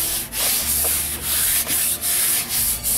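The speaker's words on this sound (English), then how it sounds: "I'm using 320 sandpaper, so it'll work just as well as wet sanding it" Hand sanding of motorcycle primer with 320 grit sandpaper, close and loud repeated back-and-forth rasping strokes in a steady rhythm with brief pauses between passes.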